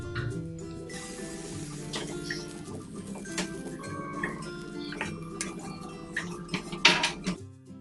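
A ladle spreads dosa batter across a hot dosa pan at home, giving light scraping and clinking metal contact, with a few sharper taps near the end over soft kitchen background.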